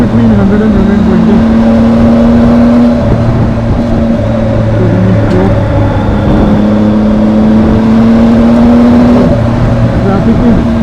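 A Triumph motorcycle engine drones loudly and steadily while riding at 100 to 120 in traffic, with sustained whirring engine tones shifting slightly in pitch and constant wind rush close up.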